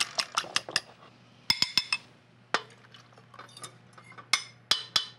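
Four eggs are beaten for hot cross bun dough, a whisk or fork clinking against a bowl in quick bursts of sharp taps, pausing and resuming, close and clear with no talking.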